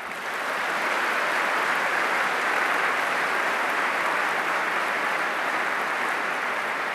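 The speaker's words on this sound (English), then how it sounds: "let us also applaud every single one of the candidates in the deputy leadership contest" A large party conference audience applauds the deputy leadership candidates in a dense, sustained wash of clapping that swells in quickly and holds loud and even, with no voices over it.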